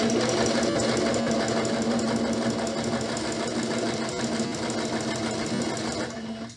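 A sewing machine stitches a straight seam on a pillowcase, its steady, rapid needle chatter and motor hum running loud and unbroken before stopping at the end.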